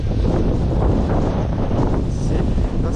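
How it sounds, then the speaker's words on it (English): Strong outdoor wind blasts straight into a camera microphone in Argentina, a loud, continuous rumbling roar with gusty swells and no voices. "See, that's how windy it is."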